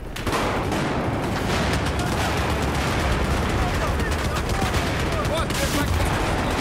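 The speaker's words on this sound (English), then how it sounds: "With an unbarreled shotgun." Dense, rapid gunfire rattles continuously in a first-person shooter video game, shotgun blasts mixed into a loud, sustained barrage with a player talking over it.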